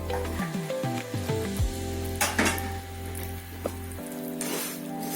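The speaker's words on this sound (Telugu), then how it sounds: "ఇది సిమ్ లో హైలో అని పెట్టి మనము ఫ్రై చేస్తా ఉండాలి" Cumin, mustard and sesame seeds frying in a pan with a light crackling sizzle, mixed with clinks and scrapes of a metal spoon against the pan, close up and without talk.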